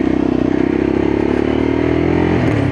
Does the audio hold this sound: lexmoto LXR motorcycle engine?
yes